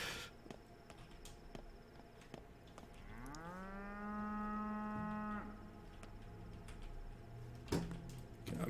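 A cow in a video game lets out one long, rising moo lasting about two seconds, clear above faint background clicks and footsteps.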